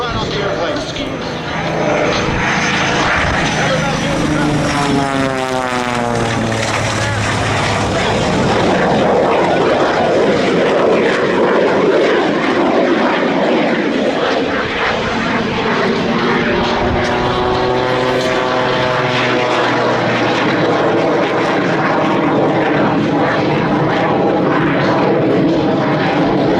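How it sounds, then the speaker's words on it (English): A jet aircraft engine roars overhead at the EAA Oshkosh airshow, a steady loud drone that rises and falls in pitch as the plane passes and comes around, with talk faintly under it. "Hear the jet engine come back."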